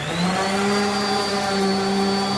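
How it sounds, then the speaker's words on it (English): A vacuum cleaner runs steadily with a loud, sustained whine and several steady tonal hums, holding an even level without pauses. "She's always hoovering or doing something."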